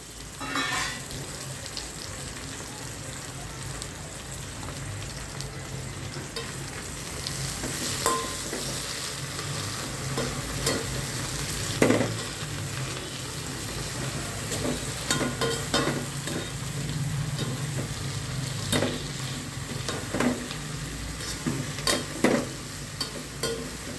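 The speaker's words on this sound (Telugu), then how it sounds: "ఒక కట్ట గోంగూర కొంచెము కరేపాకు కూడా వేసా" Gongura leaves and curry leaves frying and being stirred in a pan for a gongura roti pachadi, a steady close sizzle with occasional scraping clinks of a spoon against the pan, with no talking.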